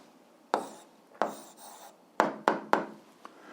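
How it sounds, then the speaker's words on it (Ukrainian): Pen or chalk strokes writing out the answer to an eighth-grade algebra exercise: several short scratchy bursts with pauses in between, close and fairly quiet, with no talking. "Пишемо відповідь."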